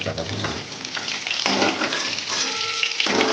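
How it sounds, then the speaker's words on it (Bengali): Potatoes and radish fry in hot oil with a dense, close crackling sizzle and a few stirring scrapes, loud and continuous throughout. "এইভাবে ভেজে নিলাম আলু আর মুলোটা"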